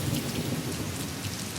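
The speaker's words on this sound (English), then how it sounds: "The Sri Lankan monsoon lasts around a month and brings heavy rain and thunderstorms across the island." Heavy monsoon rain pours steadily during a thunderstorm in Sri Lanka, a dense, constant hiss of downpour with a low rumble of thunder beneath, loud and unbroken throughout.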